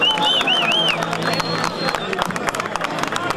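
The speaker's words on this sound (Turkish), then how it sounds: "Gerçekten iki kardeşimize de alkışlıyoruz." Crowd at an outdoor Turkish oil wrestling event in Gazipaşa applauds and cheers loudly, a dense wash of clapping and hubbub with whistles near the start and a commentator's voice talking over it.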